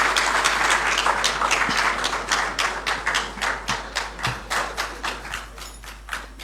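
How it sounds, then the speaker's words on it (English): Sustained applause from an audience at a formal Ghanaian state event welcoming the President and Commander-in-Chief of the Armed Forces, many hands clapping steadily in dense, rhythmic bursts that gradually thin toward the end, with no voices. "A round of applause, please."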